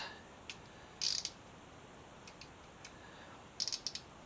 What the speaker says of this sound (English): So I get the ratchet set the right way.